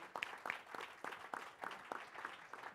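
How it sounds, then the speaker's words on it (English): Sparse, quiet clapping from a small audience greeting panelists at a labor forum, individual claps spaced in an uneven rhythm, fairly distant. "let's have a round of applause for our panelists just to start"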